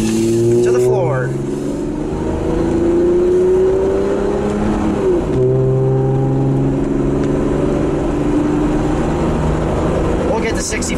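A 1997 Toyota Land Cruiser FJ80 accelerates hard at full throttle, its engine note climbing steadily through a gear change, loud and close from inside the cab under continuous wind and road noise, with someone talking over it.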